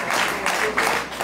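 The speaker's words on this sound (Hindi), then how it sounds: "इसलिए आप लोगों के लिए जोरदार ताली बजाओ" An audience at a Bhagwat katha religious discourse in Vrindavan applauds, a dense wash of clapping in uneven swells that carries on without talk.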